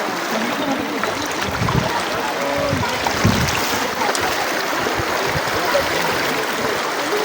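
Water flows steadily around people crossing the fifth stream on foot at Guadalupe, with splashing and movement close by under a continuous broadband rush and occasional voices.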